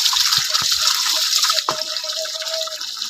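Close, steady water rushing and splashing as Chinese ducks drink and bathe, with a few sharp bill dips and slurping knocks early on, then a smoother flowing wash, no voices.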